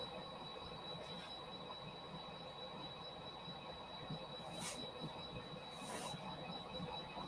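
Railroad cars shunted by a locomotive during switching at a paper mill, a steady rumbling rail noise with a couple of brief high wheel squeals partway through, heard at a moderate distance.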